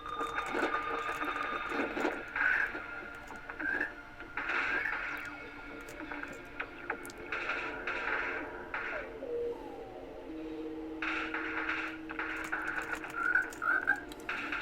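A frog enemy in the retro video game Gato Roboto croaks in repeated short, buzzy bursts over a steady game soundtrack with electronic blips, moderately loud and spaced a second or two apart.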